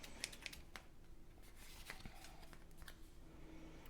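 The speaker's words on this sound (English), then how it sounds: "back to full-size scissors to do my trimming." Faint, close snips and rustles of scissors cutting through card, several quick cuts scattered over a quiet room.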